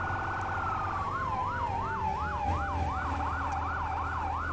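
Wailing emergency vehicle siren from a fire engine in the video game Firefighting Simulator - The Squad, rising and falling in a steady fast cycle over a constant low engine rumble, loud and continuous with no talk.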